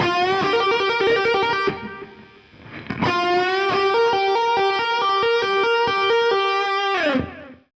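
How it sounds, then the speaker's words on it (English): Distorted electric guitar plays rapid trills, alternating two notes on one string with hammer-ons and pull-offs in a shreddy blues style, loud and sustained with a brief pause midway and no talking. "he would take 2 notes on one string and just play trills with them"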